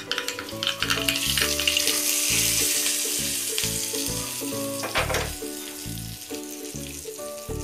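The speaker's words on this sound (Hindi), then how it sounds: "अब हम इसके ऊपर तड़का लगा देंगे।" Loud crackling sizzle of tempering spices hitting hot oil for curd rice, with bursts of spattering and occasional stirring clinks, continuous throughout.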